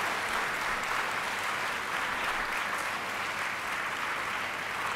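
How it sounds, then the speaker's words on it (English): Sustained applause from an audience at an endowment lecture, honoring award winners; a dense, steady wash of clapping that fills the whole stretch at even loudness with no voices over it. "And please clap."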